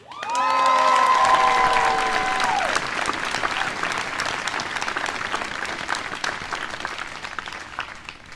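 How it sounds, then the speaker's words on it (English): A crowd applauds and cheers at a class of 2021 graduation speech, with loud whoops and shouts at the start over sustained clapping that continues steadily and slowly thins over several seconds. "Thank you for cheering."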